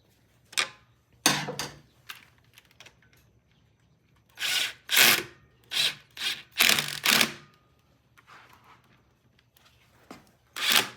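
Screws are driven into a motorcycle transmission case during reassembly, heard as a series of short, close bursts of whirring and ratcheting, some grouped in quick pairs with pauses between, and no talk.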